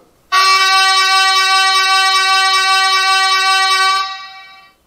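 A deep, steady typhon horn blast from a Märklin H0 model track tamping machine, with a rich, reedy harmonic tone, held for about four seconds before fading out, sounding alone.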